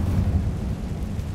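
Confringo blasting spell from Hogwarts Legacy: a low, rumbling explosion that fills the whole short stretch with deep booming energy and no voices.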